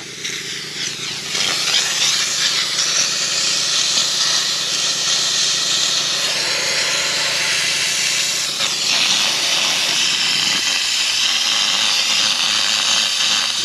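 A steam cleaner blasts into a grubby lantern with a loud, continuous hiss that surges and dips as the nozzle moves. The steam jet briefly eases and restarts partway through.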